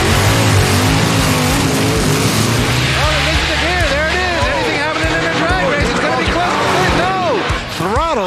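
Drag race cars, one of them a Viper, roar close by at a drag strip event with loud, sustained engine noise and rising revs, while an announcer's voice talks over it.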